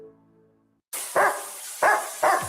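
Three loud, close dog barks spaced about half a second apart, opening a radio advertisement for a pet wash after a brief low music tail and a short silence.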